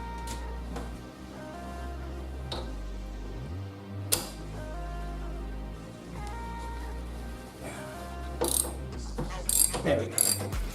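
A ratchet works loose an 18 mm spark plug on a BMW 2 Series B46 engine, giving close, repeated metallic clicking and mechanical rattles, with a few sharp knocks near the end.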